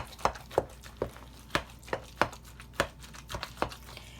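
Potato salad ingredients mashed together in a bowl, a series of about ten soft, evenly spaced thuds and squelches, close and moderately quiet with no voices.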